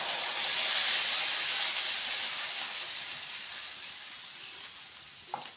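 Prepared ingredients for bitter gourd kichadi tipped into a hot pan, setting off a loud hissing sizzle that swells early, then slowly fades over several seconds, with a faint clink near the end and no speech.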